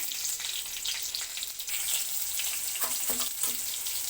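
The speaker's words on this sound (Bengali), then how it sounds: "লঙ্কাটা ভাজা হয়ে গেছে" Slit green chillies and black cumin frying in mustard oil, making a soft, steady sizzle with a few brief crackles and pops, close by and without speech.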